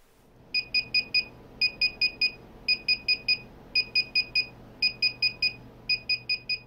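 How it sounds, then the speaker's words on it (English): Loud, sharp electronic beeps from a DJI Phantom 3 drone controller during a firmware update come in rapid bursts of four, repeating in a steady pattern with short pauses between each group. "followed by a series of very loud and repetitive beeps a few times in a row"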